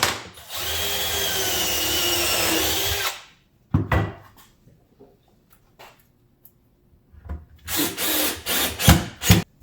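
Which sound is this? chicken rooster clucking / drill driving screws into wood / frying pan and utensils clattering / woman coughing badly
drill driving screws into wood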